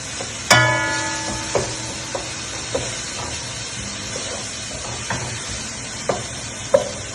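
Tomatoes and onions sauté in a pan with a soft sizzling hiss, broken by a sharp utensil clang at the start and then spaced clinks and scrapes as the mixture is stirred.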